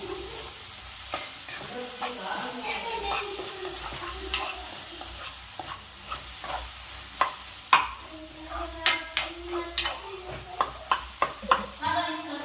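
Mutton pieces sizzle in a pan while a spoon stirs them, scraping and clacking against the metal in irregular strokes that grow into quicker, sharper knocks toward the end, all over a steady background fry.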